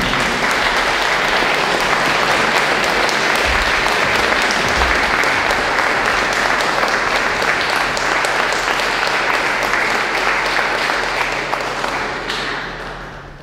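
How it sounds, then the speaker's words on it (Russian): Sustained applause from a large audience at a vocal concert, steady and loud, tapering off toward the end. "Это наша великолепная Карина Погазбеков, которую вы встречаете аплодисментами."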